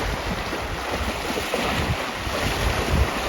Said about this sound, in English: It's almost like an ocean with these waves lapping against the rocks.